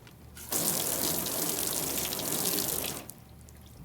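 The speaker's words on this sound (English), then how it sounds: "I'm gonna wash this real quick just with soap" Water gushes steadily for about two and a half seconds while a sealant-coated car paint panel is rinsed and washed with soap, then cuts off to quiet.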